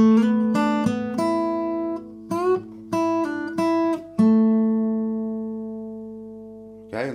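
An acoustic guitar plays a phrase from the intro of Pink Floyd's Wish You Were Here, plucked single notes and bends ringing close and clear, ending on a long sustained note that slowly fades, with no voice.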